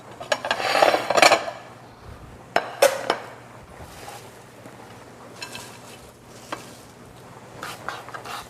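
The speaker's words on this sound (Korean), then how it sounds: "요것도 지금 제가 한 5cm 정도 되도록 토막을 쳐서 참나물 준비를 해볼게요" A knife chopping chamnamul on a cutting board into 5 cm pieces: scattered sharp clacks and knocks, a few close together then sparser, with a faint steady hum underneath and no talk.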